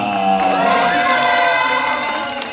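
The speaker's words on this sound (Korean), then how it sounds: "우리 배우분들이 인사드릴 때큰 박수 부탁드립니다" Theater audience at a musical performance of Beauty and the Beast cheering and clapping for the actors' bow, a loud, bright wall of crowd cheers with high shouts over steady applause that fades slightly at the end.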